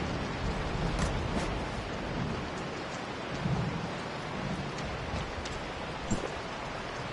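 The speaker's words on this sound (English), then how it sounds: "It seems that a strong storm is brewing." A thunderstorm in the game Tower of Fantasy pours steady, dense rain throughout, with low rumbles of thunder rolling underneath and a few sharp drops or cracks standing out, no voices.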